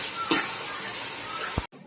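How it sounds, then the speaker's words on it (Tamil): Grated raw mango sizzling in a hot pan as it is stir-fried for mango rice, a steady close hiss with a brief utensil clink before cutting off abruptly. "துருவி வச்ச மாங்காவை போட்டு பரட்டணும்."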